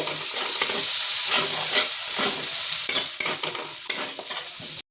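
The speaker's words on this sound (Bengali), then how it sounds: "এটাকে আমি আবার নাড়াচাড়া করে নেবো ভালো করে তেলের সাথে" Cauliflower masala paste is stirred in hot oil, making a loud, close, continuous sizzle. Repeated scraping strokes of the spoon run through it, and it ends abruptly.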